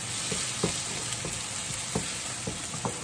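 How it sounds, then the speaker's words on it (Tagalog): Onions sauté in hot oil in a pan for a holiday pasta dish, a steady soft sizzle with occasional spatula scrapes and taps on the pan, no voices. "Ngayon, magigisa na tayo ng sibuyas."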